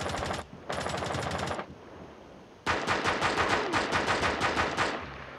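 Rapid pistol gunfire from the video game Rainbow Six Siege comes in two short bursts, a brief pause, then a longer volley of sharp, loud, closely spaced shots, with no speech over it.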